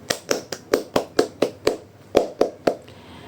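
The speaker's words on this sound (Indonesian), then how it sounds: "Tepuk tangan buat kalian semua." Students in a classroom clapping hands together in about eleven sharp, evenly spaced group claps, close and fairly loud, with a brief pause before the last few and quiet afterward.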